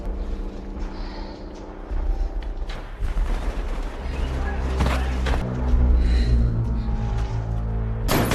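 Gunfight in an action film, with bursts of gunfire and impacts over a rumbling dramatic score, loud and close, building in intensity across the scene.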